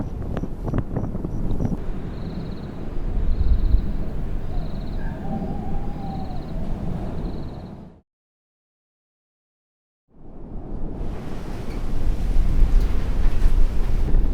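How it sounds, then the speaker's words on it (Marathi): Strong wind roars and buffets the microphone on top of Kavnai Fort, a hill fort, in a continuous low rumble, with a faint tone in the background, cutting out briefly midway. "वारा प्रचंड होता."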